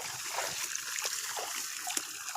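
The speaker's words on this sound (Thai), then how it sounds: "น้ำไหลคักเลยครับ" Water flows into a chemical-free transplanted rice paddy, trickling and splashing softly at close range with small irregular spatters, fairly quiet overall.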